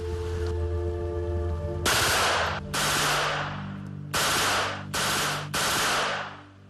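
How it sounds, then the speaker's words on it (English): A Czechoslovakian-made Scorpion machine pistol fires five loud, close automatic bursts of varying length, each a dense rattling roar separated by brief pauses, after a steady electronic hum at the start. "This is a Czechoslovakian-made Scorpion machine pistol."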